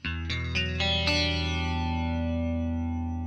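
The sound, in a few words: guitar clean tone with slow modulation (chorus) effect, AmpliTube 5 CS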